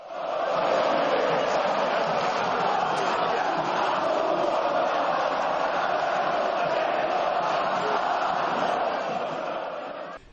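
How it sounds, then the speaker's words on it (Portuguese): A large crowd of Palmeiras football fans sings the club anthem together in a stadium, a dense, steady, loud wall of voices that holds unbroken from start to finish. "com a torcida cantando feliz o hino do clube"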